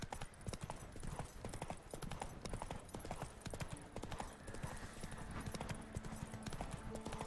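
Roach, Geralt's horse in The Witcher video game, gallops with fast, rhythmic hoofbeats that carry on throughout at a moderate distance, with a faint tonal ambience underneath.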